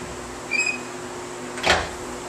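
A heavy stone-built boiler door from about 1920, in an old school building, gives one short, sharp thud or scrape after a faint metallic clink, against a low steady hum in a quiet room.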